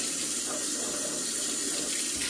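Water flows from a faucet in an even, unbroken rush for washing Air Jordan 1 sneakers, close and fairly loud, with no one speaking.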